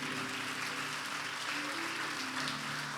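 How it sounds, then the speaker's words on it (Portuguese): A church congregation at a worship service applauds in a steady, dense wash of clapping. It holds at an even level throughout, with a faint tonal hum underneath. "Aplaude mesmo se é para ele."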